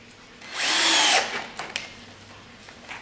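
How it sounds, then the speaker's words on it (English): A power drill drives a screw into wood while building a no-nail carry tray, a close, loud steady whir lasting under a second, followed by a few faint clicks and small knocks. "So I'm going to drill and screw the rest of these"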